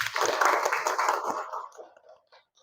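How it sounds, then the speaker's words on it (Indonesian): A classroom of students claps in a brief burst of dense applause that thins out and fades to a few scattered claps after about two seconds. "Ya, tepuk tangan untuk kita semua."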